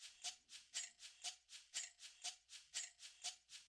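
Unprocessed shaker and tambourine samples from Drum Machine Designer play a steady, even loop of crisp, bright hits about twice a second, with nothing else underneath.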